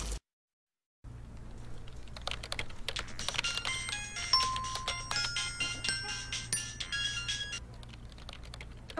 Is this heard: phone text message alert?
yes